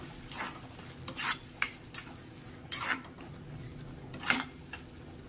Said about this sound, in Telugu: ఇప్పుడు ఇందులో కొద్దిగా ఉప్పు ఇంకా పసుపు వేసుకున్నాం. ఇది ఒకసారి ఫ్రై చేసుకుని